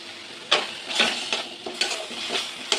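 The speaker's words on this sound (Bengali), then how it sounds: "ভালো করে কষিয়ে নেব।" Spices, ground turmeric, chili powder and tomato paste being sautéed in oil in a pan, a soft sizzle under repeated scraping strokes of a spatula, roughly five or six distinct stirs, close and fairly quiet.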